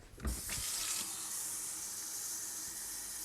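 Water runs steadily from a tap or is poured for apple pie cake batter in a home kitchen, a continuous close hiss after a brief clatter at the start.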